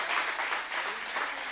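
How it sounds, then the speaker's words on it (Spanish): A church congregation bursts into brief, steady applause during a sermon, a close, dense wash of clapping hands with no pause. "Ahora sí puede aplaudir"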